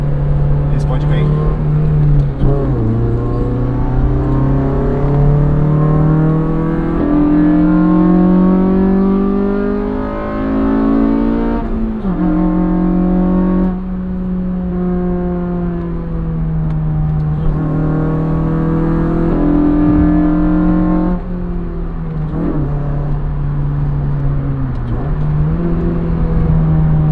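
A Honda Civic Si engine accelerates hard on a Marginal expressway, its loud, steady drone climbing in pitch through each gear, with brief drops at the shifts, heard close from inside the car.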